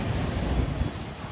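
Ocean waves wash onto Fort Kochi Beach in a steady, rough roar mixed with wind buffeting the microphone, filling the whole brief moment without a break.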